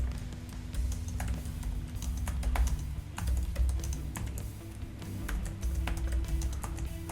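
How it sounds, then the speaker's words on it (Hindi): Typing on a computer keyboard: a quiet, irregular stream of soft key taps and clicks, close and continuous with no talking. "मैं टाइप कर देता हूँ best way to earn money online"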